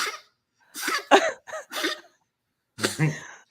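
An old dog gives a run of short, harsh hacking coughs in quick bursts, then a pause and a final rougher cough, close by.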